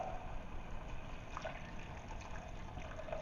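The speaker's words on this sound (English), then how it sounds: "Now I'm going to add 8 cups of water." Hot water, about eight cups, poured into a soup pot for broccoli cheese soup, a quiet steady trickling and splashing that runs unbroken throughout, close but faint.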